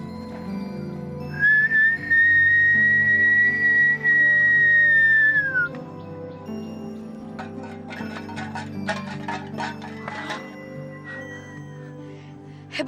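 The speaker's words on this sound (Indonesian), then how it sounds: "Nih, lihat ya, aku bersiul lagi." A person whistles one long, clear sustained note for several seconds, then quieter intermittent tones follow over a faint background hum and scattered clicks.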